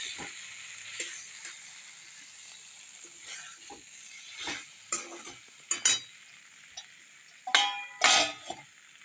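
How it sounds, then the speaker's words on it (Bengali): Spice paste with a bay leaf cooks in oil in a pan, with a soft sizzle and scattered metallic spatula scrapes and clinks that grow louder toward the end. "আর মশলাটা ভালো করে ঢাকা দিয়ে কষিয়ে নেবো কষানো হয়ে গেছে প্রায় তেল ছেড়ে দিয়েছে"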